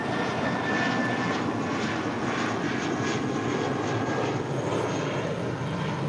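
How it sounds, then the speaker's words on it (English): A JetBlue Airways Airbus A320 jet taking off at LAX, heard as a steady, loud broadband engine roar that holds constant throughout, with no talk over it. "That's Blue Monday taking off to Reno, Nevada. The A320 with JetBlue Airways, 942."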